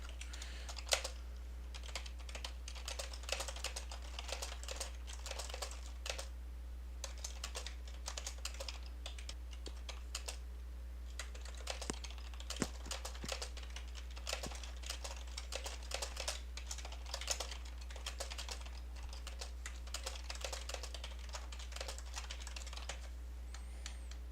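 Quiet, rapid typing on a computer keyboard goes on for over twenty seconds, irregular clusters of soft clicks sitting over a steady low electrical hum, with no voices.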